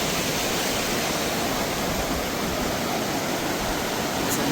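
Glacier meltwater rushes down a Himalayan mountainside near Khardung La at around 15,000 feet, a dense, constant roar of flowing water with no pauses.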